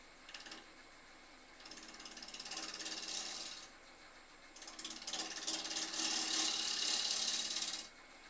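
A wood lathe spins a hawthorn bowl at about 1000 RPM while a 3/8 bowl gouge cuts. Two bursts of raspy scraping can be heard, rising and falling in intensity, with a short quieter gap between them.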